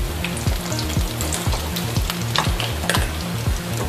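Vegetable koftas fry in hot oil with a loud, continuous sizzle and crackle, marked by faint clinks from a utensil in the pan.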